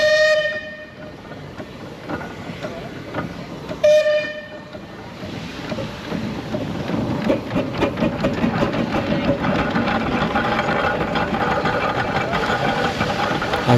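A steam traction engine at a Cotswolds steam festival sounds two bright whistle blasts, then runs on with a rising, steady mechanical rumble and clatter that grows louder toward the end.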